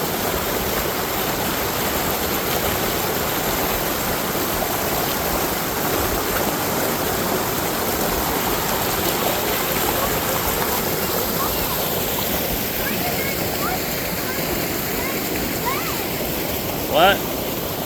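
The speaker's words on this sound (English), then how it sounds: "Yeah, Hebron Falls is a bunch of cascades here." Water cascading down the rocky falls of Hebron Falls on the Boone Fork Loop Trail, a steady, dense rush that fills the whole clip with constant close roar and no break.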